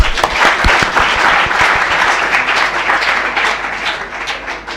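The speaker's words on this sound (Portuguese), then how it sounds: "Palmas para o último grupo." An audience at a debate session claps for the final group, a few sharp close claps at the start swelling into dense sustained applause that slowly thins toward the end.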